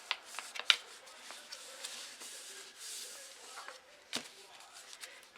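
Paper being folded by hand for a party craft: soft rustling and creasing strokes, a few sharper crisp snaps, close and quiet with no talk.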